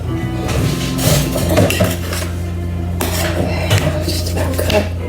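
A homemade pizza loaded with cheese, sausage and meatballs is sliced on a pan, with repeated metallic scraping and clinking of cutter and cookware, up close and loud.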